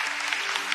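Church congregation applauding during a Sunday worship service sermon, a dense, steady wash of many hands clapping throughout the short moment with no talk over it.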